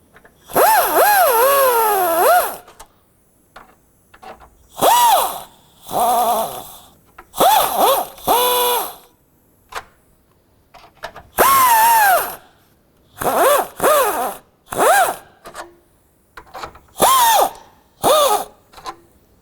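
A power tool tightens the battery hold-down on a 2006-2011 Honda Civic in loud, close bursts of whirring, each lasting one to two seconds, separated by short pauses, with no talking.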